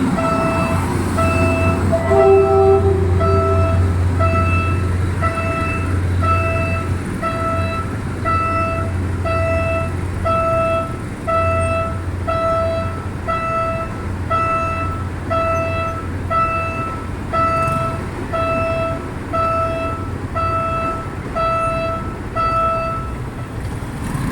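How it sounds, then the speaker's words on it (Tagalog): A train crosses near Osmeña Highway while traffic waits, a steady low rumble rolling along with a repeated beeping warning signal pulsing throughout. "stop muna tayo dito dahil bibigyan daan natin ang train"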